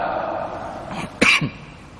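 A single sharp cough rises out of quiet speech, followed by a softer throat sound.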